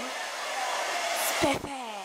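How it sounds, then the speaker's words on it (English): A hair dryer blows with a steady, airy whir, briefly sputtering and dipping in pitch before resuming its constant hum. "you can buy your own personal hair dryer"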